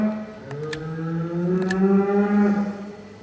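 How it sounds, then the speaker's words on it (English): A bull lows from behind a farmyard wall, one long drawn-out moo that rises and holds in a rich, groaning tone, heard clearly but at some distance. "that noise is not the cow in the crush, it's the bull over that wall."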